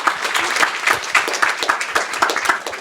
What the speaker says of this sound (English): now is the moment for applause